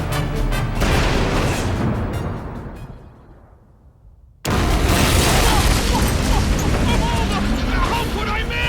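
Cannon or gun fire in an animated cartoon episode: loud sustained roaring blasts that die away, a brief near-silence, then another abrupt heavy barrage continuing loudly.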